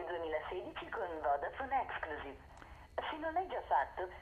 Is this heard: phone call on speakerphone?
yes